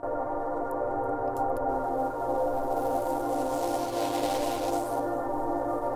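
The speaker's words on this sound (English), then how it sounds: "once we bring that bit crush in with the jitter" A sustained synth tone with a gritty, bit-crushed texture and fine jittery crackle, steady and moderately loud throughout, with no voices.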